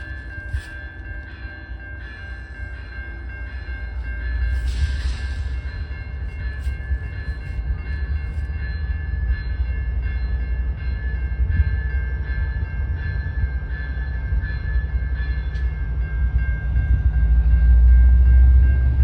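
A train pulls away with a rising, heavy rumble, a bell ringing and mechanical clanks building over about twenty seconds, no talking.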